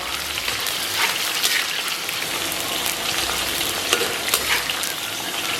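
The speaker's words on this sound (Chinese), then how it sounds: "先把葱姜蒜给它炒香" Scallion, ginger and garlic are stir-fried in oil heated to 70–80 percent, crackling and sizzling loudly and continuously with quick scraping strokes of stirring, all close up.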